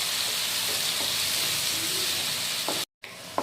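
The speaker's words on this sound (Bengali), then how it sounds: "আর পেঁয়াজ বাটাটা কিন্তু ভালোভাবে আপনাদের ভেজে নিতে হবে।" Ground onion paste fries in a pan for Bengali doi katla fish curry, giving a steady, close, loud sizzle and hiss with faint stirring, broken by a brief silence near the end.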